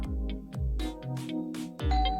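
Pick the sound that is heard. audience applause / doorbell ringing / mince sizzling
doorbell ringing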